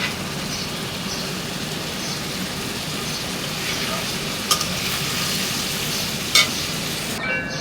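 Jackfruit seeds with dried fish and fish sautéing in a pan, a steady close sizzle with occasional scrapes and clinks of stirring running throughout.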